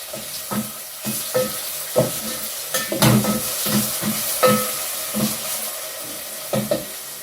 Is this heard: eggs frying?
yes